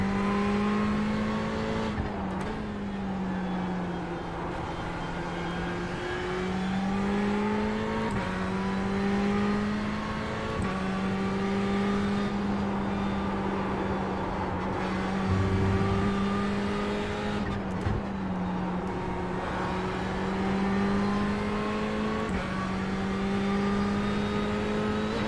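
Race car engine in an iRacing time trial, a steady loud drone with rising and falling pitch through gear shifts and corners, alone without talk across the whole lap segment.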